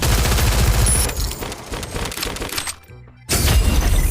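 Loud, rapid bursts of automatic gunfire in the Free Fire battle game, close and harsh with cracking, shattering impacts, breaking off into a brief near-silence before another burst erupts.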